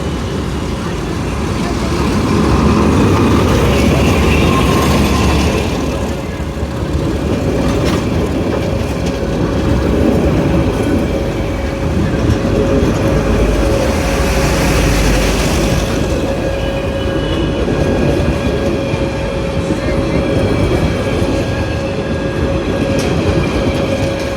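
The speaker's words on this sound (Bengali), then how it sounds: "জুরেন রেলগেট থ্রুপাস করছে ঢাকাগামী নারায়ণগঞ্জ কমিউটার" A Dhaka-bound Narayanganj commuter train rolls past a rail gate at night, a loud, continuous rumble and rattle of wagons with a steady tonal hum, swelling and easing as cars pass close by.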